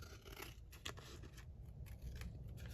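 Scissors snip through paper in a run of soft, quick cuts close up, with faint crinkling between strokes and no talk.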